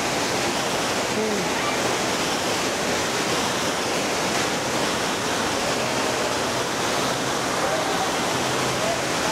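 Ubot Falls in Aurora Province pours in a steady, dense roar of rushing water that stays loud and unbroken throughout.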